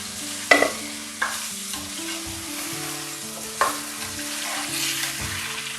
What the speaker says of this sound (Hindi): अब इसको 2 से 3 मिनट तक फ्राई करेंगे